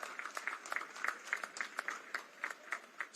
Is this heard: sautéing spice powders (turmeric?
no